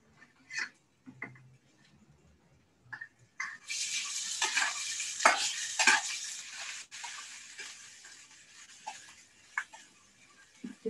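Ginger and garlic stir-fried in a thin wok, a bright sizzle that bursts in about four seconds in and then settles, with scraping stirs and clinks of the pan around it.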